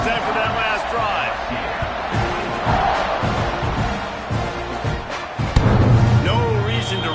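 A football stadium crowd roars at a kickoff, its broad swelling din set behind a commentator's voice, with a few thumps and louder surges toward the end.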